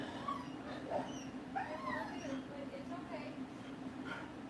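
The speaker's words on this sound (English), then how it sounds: "There was dogs barking on their back alleyway." A dog whimpers and yips in short, high, wavering cries over a faint steady hum, fairly quiet and not close.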